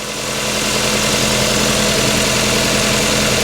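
Toyota Altezza engine fitted with individual throttle bodies idling at raised RPM, a loud, steady, close-up mechanical hum with a rough low throb that holds constant throughout.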